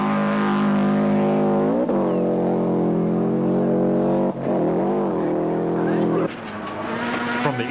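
Subaru rally car heard from the in-car camera on a wet Cape Rally 2003 stage, the engine roaring loud and close through sustained high revs, with gear-change dips and sharp revving surges.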